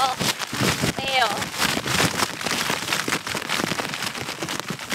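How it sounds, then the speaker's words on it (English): Hail batters a tarp on a Continental Divide Trail hike in a dense, loud patter of hard strikes with gusts of wind, while a person talks over it. "We're having a hailstorm right now. You can see my tarp, this is all hail."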